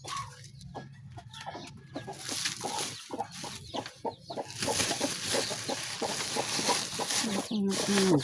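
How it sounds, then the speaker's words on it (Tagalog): Chickens cluck and call at close range around a backyard coop housing a hen and newly hatched chicks, scattered short calls repeating through the clip with someone talking over them. "titignan natin yung mga manok dito"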